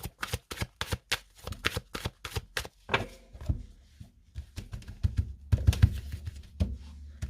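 Love angel oracle cards shuffled by hand in a rapid series of crisp riffling slaps, close and clear, settling into softer, denser handling toward the end with no talking.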